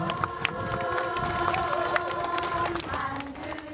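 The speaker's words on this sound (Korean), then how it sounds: "네, 큰 박수 부탁드립니다." Audience applause at an outdoor Buddhist unveiling ceremony honoring a monk's legacy, a steady wash of clapping and crowd noise with a sustained tonal drone running beneath it for the whole stretch.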